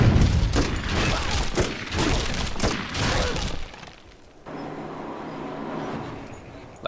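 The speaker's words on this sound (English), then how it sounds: "You destroy the cannon." A cannon unit is destroyed in Civilization V with a burst of crackling, shattering explosions for several seconds, then the noise drops to a quieter, lingering ambience.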